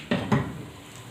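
Onion pieces dropped into a mixer grinder jar while making shawarma sauce give two quick, close hollow thuds, then a quiet stretch with faint background hiss.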